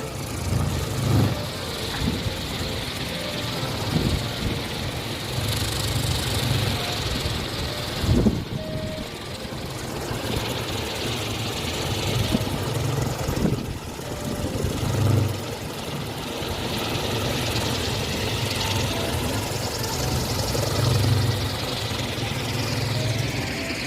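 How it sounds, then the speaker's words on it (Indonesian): A steady low rumble of a helicopter engine and rotor flying overhead at Gunung Kasur, Cipanas, Cianjur, sustained and fairly loud, with occasional swells as it passes. "Helikopter, helikopter."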